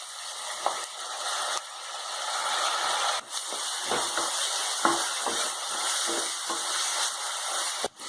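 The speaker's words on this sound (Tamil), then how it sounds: "வெங்காயத்தை லைட்டா வதக்கிக்கோங்க. அடுத்து இஞ்சி பூண்டு விழுது சேர்த்துடலாம்." Onions with ginger garlic paste fry in a pan for chicken masala fry, a dense steady sizzle with occasional stirring scrapes and brief dips, close and loud with no talking.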